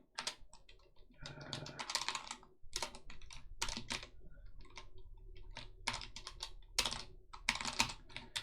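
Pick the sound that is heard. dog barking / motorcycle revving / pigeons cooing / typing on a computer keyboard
typing on a computer keyboard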